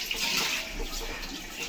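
Water runs steadily from a tap while dishes are washed, a continuous close splashing hiss with no pauses.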